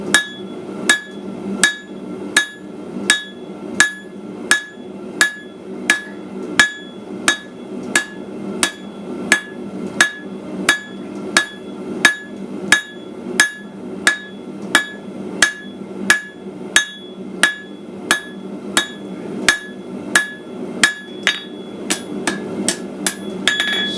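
A hammer strikes hot metal on an anvil in a steady, even rhythm of sharp ringing blows, about one or two per second, loud and close, with the pace quickening slightly near the end and no talking.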